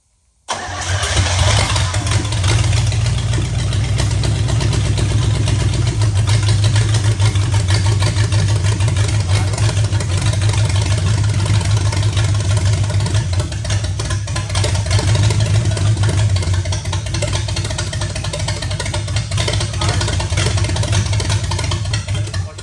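A Pontiac 350 V8 engine, long left sitting in a garage, starts up and then idles steadily for a long stretch, a deep, rough rumble close by with no talking.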